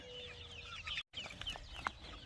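Several pasture-raised chickens cluck softly outdoors, their chatter overlapping with faint bird calls; a brief dropout interrupts the sound partway through.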